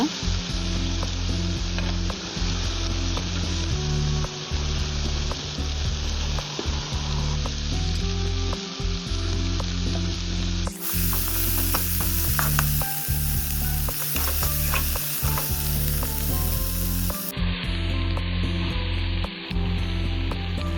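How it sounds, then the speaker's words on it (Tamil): Tomatoes sautéing in a pan for green sundaikaai (turkey berry) kuzhambu, with a steady loud sizzle and frequent stirring scrapes over a low mechanical hum, no voices. "தக்காளி சேர்த்து நல்லா வதக்கி விட்டுக்கலாம் இந்த தக்காளி நல்லா குழஞ்சி வதங்கணுங்க"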